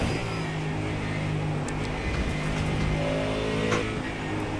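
A Ford Mustang GT3 race car in iRacing, its engine a steady, loud, close drone that holds and rises slightly as it revs, with no voices over it.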